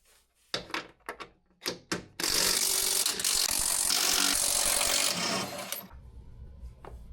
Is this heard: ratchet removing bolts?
yes